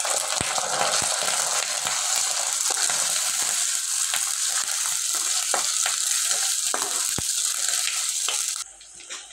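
Chopped onions and ginger paste frying in hot oil, a loud continuous close sizzle with scattered spoon taps and scrapes, fading abruptly near the end.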